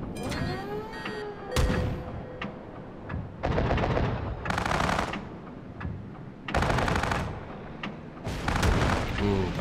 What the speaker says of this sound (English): Was that an Iowa shell?